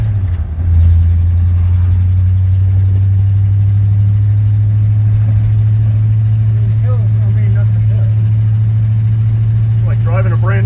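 A 1952 Ford F-2 pickup truck engine idles steadily, a loud, even low rumble that starts up and holds for several seconds, with someone talking over it toward the end.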